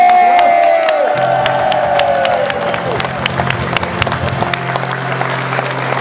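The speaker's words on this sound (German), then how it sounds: "Und er kriegt einen netten Applaus." Audience applause and cheering for the musician at a stage show, a steady wash of clapping with scattered sharp claps, mixed with lingering music tones and some voices in the crowd.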